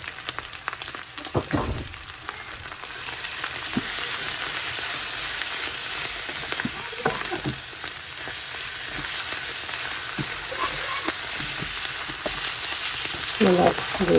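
Onions fry in a pan with a steady, fairly faint hiss of sizzling oil, punctuated every few seconds by soft scraping stirs, heard up close without any talking.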